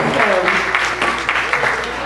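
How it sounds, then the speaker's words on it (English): A crowd at a banquet claps in a brief burst of applause, loud and close, with some voices mixed in. "Let's give them a round of applause."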